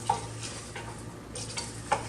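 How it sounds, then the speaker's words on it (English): Onions cook slowly over low heat in a pan, a soft continuous sizzle with a few light stirring clicks and scrapes spaced through the short stretch. "Now I'm just going to cook this on fairly low heat until all of the onions are caramelized."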